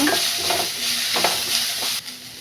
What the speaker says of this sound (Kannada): 1-2 ಮೆಣಸಿನ್ಕಾಯಿ, ಸ್ವಲ್ಪ ಕರಿಬೇವು ಹಾಕ್ಕೊಂಡು ಫ್ರೈ ಮಾಡ್ಕೊಳ್ಳೋಣ.